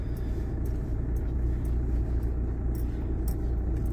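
A car drives along a road, steady low engine rumble and tire noise heard from inside, constant and fairly loud with faint ticking above.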